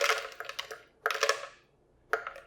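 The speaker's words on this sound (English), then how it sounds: "We're gonna throw in a half ounce of almonds" Handfuls of almonds drop into a bowl in three short bursts. Each burst is a light, close clatter of small hard clicks, separated by brief pauses.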